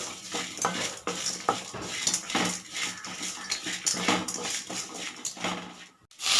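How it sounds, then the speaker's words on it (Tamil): Ingredients with a gooseberry-sized lump of tamarind being sautéed in a pan, with a steady clatter of a spoon scraping and stirring against the metal alongside a soft sizzle, fairly close and continuous without speech. "எல்லாத்தையும் நல்லா வதக்கலாம்"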